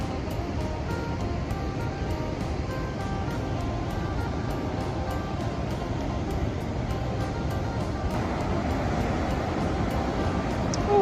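Continuous rushing water of a waterfall in Khong district, Champasak, Laos, loud and steady, a dense broadband roar with no breaks.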